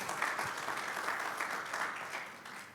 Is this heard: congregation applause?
yes